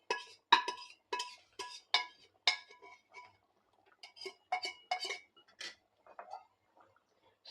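Cooked beef scraped out of a pan into a pot with a metal utensil while making beef with chana dal: a series of close, sharp metallic scrapes and clinks in irregular bursts, with no talking.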